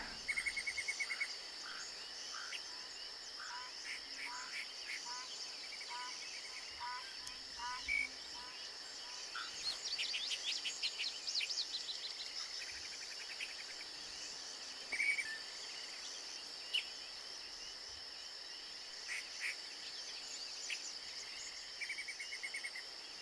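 Continuous frog chirping trills with intermittent bird calls over a quiet outdoor ambience in the video game theHunter Classic, no talking, fairly soft throughout.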